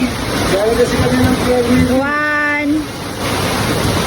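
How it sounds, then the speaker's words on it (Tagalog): Heavy rain pours in a dense, steady hiss close by, while a voice speaks over it. "lakas ng ulan. Grabe yung ulan"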